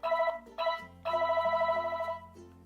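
A Jio Phone Prima 2 (JFP1AE) feature phone plays its ringtone through its loudspeaker, a loud, bright electronic melody in short repeating bursts with brief gaps, heard alone and close up.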